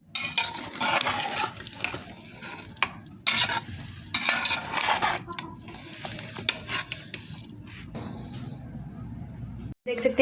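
Spoon stirring aloo keema with capsicum and coriander in a frying pan, scraping and clinking against the metal in irregular bursts over a faint sizzle, with someone talking in between.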